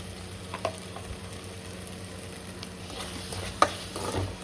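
Curry leaves and garam masala stirred into sautéed tomatoes in a frying pan, a steady low sizzle broken by occasional sharp spoon scrapes and clicks against the pan.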